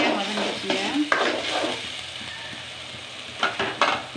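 Onions sautéing in a pan for a roadside-style chana masala, a close crackling sizzle broken by spatula scrapes and clanks against the pan, with no talking.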